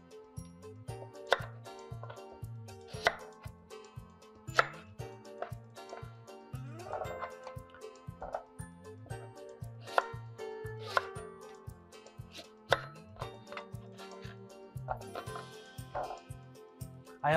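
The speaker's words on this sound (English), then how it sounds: "what we're gonna do is just cut them into relatively large chunks" A knife chops peeled parsnips into large chunks on a cutting board, giving a steady run of sharp, close knocks with brief pauses between cuts, over a low background hum.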